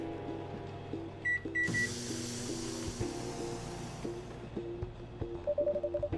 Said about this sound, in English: Just the coffee machine. Seems to have restarted now.